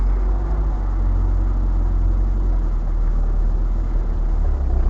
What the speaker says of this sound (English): I love the exhaust note